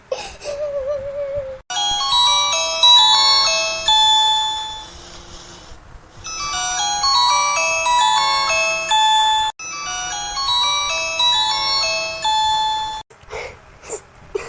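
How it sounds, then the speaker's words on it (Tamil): A cartoon phone rings over and over in a bright, chiming electronic melody, loud and repeating in bursts with short gaps between them. "அக்காவுக்கு ஃபோன் அடிச்சுக்கிட்டே இருக்கு"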